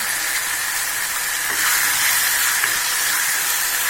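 Curry leaves and plantain sautéing in a pan give off a loud, steady hissing sizzle that stays constant and close throughout, with no voices.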